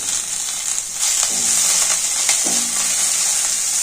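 Tamarind goes into a hot pan of oil with coriander leaves while cooking a Rayalaseema brinjal curry, setting off a bright, continuous sizzle that swells after the first second and carries on alone.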